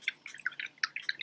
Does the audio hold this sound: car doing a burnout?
no